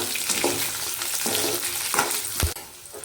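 Peanuts, tamarind and small pieces of jaggery sauté in a pan for a roasted peanut chutney, giving a steady close sizzle broken by a few scraping stirs, with one sharp clack near the end.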